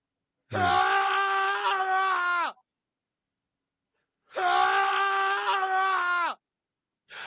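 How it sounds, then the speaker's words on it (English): Two long, loud screams, each about two seconds, separated by a brief silence, with a third starting at the very end. "I think I have at least half a dozen different screams."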